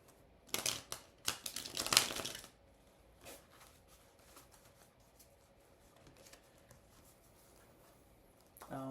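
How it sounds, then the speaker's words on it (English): Tarot cards being shuffled by hand during a reading: a cluster of crisp riffling, flicking bursts up close at first, then quieter scattered card rustles and taps, with no talking. "I'm just going to keep shuffling until the universe tells me not to shuffle"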